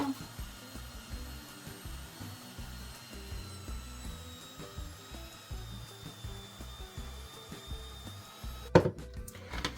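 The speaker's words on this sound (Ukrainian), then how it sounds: "ріжемо на шматочки та до м'ясорубки" An electric meat grinder mincing chunks of meat and a small onion runs close and steady, with a continuous motor whine and gritty grinding, then a sharp clattering burst near the end.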